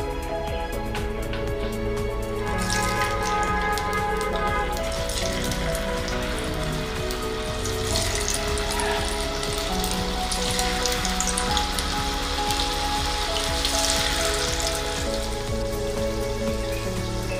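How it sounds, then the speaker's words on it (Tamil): Potato fries deep-fry in hot oil in a pan on medium flame, giving a dense, continuous bubbling sizzle with crackling spatter throughout, steady and close with no talk. "இது நல்லா கிறிஸ்பியாக மாறுற வரைக்கும் பொரியட்டும்."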